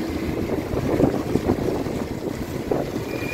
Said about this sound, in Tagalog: siguro sa hangin ba, sumasalab dyan sa cover sa harapan kasi malapad yan dyan eh.